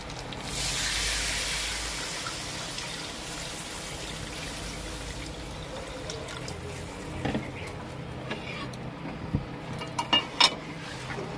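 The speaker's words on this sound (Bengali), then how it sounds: "দেখুন এবার আমি জল দিয়ে দেবো" Water poured into a pangas fish curry cooking in a pan. It opens with a brief rushing, hissing pour, then settles into quieter sizzling and bubbling with scattered sharp crackles and clinks.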